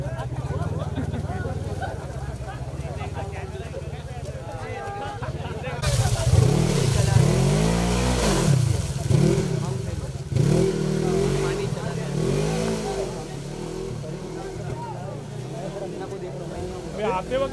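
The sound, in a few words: off-road vehicle engine revving at mud rally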